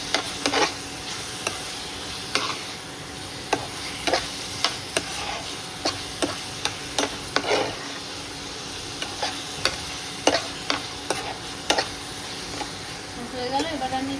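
Cabbage sprinkled with salt is stirred in a frying pan, a gentle sizzle running underneath while the spatula scrapes and taps the pan in an irregular series of short, sharp clicks.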